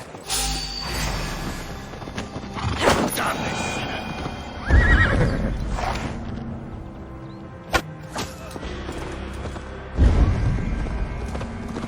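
A horse in the Assassin's Creed Valhalla video game whinnies and neighs several times while its hooves clip-clop steadily, with creaking gear and spoken dialogue in between.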